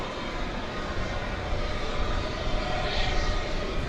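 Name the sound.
American Eagle Airbus A319-100 landing at DFW Airport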